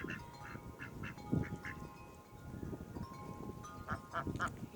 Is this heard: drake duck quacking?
yes